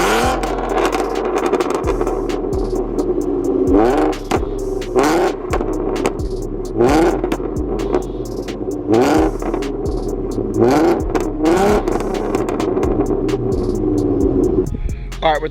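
2014 Ford Mustang with an aftermarket clutch, engine revved repeatedly up and down in short bursts, loud and close, each rise in pitch falling back to a rumbling idle.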